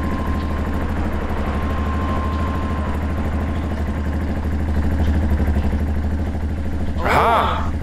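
A generator engine drones loud and steady in the horror game Don't Knock Twice, a continuous low throbbing hum, with a brief voice breaking in near the end.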